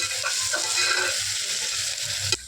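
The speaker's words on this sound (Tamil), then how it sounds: "இஞ்சி பூண்டு பேஸ்ட் நல்லா வதக்கிக்கோங்க." Ginger garlic paste sautés with onions in a pan for a potato and moong dal kuzhambu, giving a soft, steady sizzle with light stirring scrapes and a sharper knock near the end.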